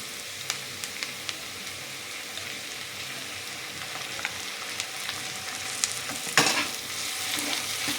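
Ginger garlic paste sizzles in a pan with fried onions for a dhaba-style chicken bharta, with a steady hiss and scraping stirs and one louder clatter near the end.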